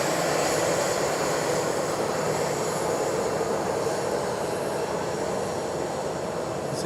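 Jetstar Airbus Neo airliner taking off at Fukuoka International Airport, a steady, dense engine roar that stays loud and even throughout, with no voices.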